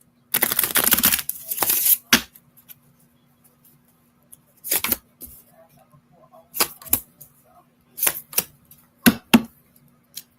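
Short bursts of papery riffling and card snaps as a deck of oracle cards is shuffled, a longer flurry at the start followed by several quick, crisp slaps spaced irregularly, close and fairly loud.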